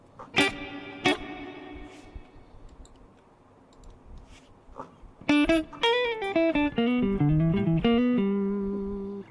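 High-gain electric guitar through a TC Electronic Ampworx JIMS 800 preamp with added reverb: two hard struck chords ringing out, quiet picking, then a run of sharp distorted notes ending on a sustained chord.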